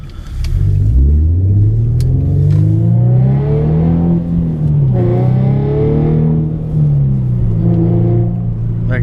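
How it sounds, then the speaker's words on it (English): Tuned car accelerating hard, a loud close engine note rising in pitch through the gears with shift dips between pulls, heavy rumble and whirring overtones. "The acceleration is definitely better."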